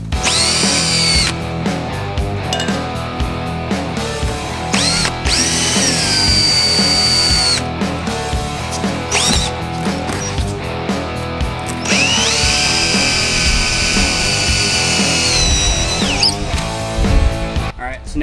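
A power drill fitted with a number two Phillips bit drives into a sheetrock wall in a garage, whining in several sustained bursts that rise and fall in pitch against a dense, busy background.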